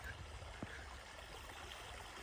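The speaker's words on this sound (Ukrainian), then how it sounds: "Це джерельце ще одне." A small spring on a mountain trickles steadily, a soft continuous wash of running water that stays close and fairly quiet, with no other sounds standing out.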